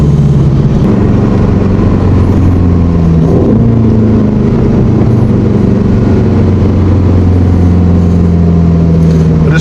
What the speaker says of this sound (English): those crackles and pops, wow.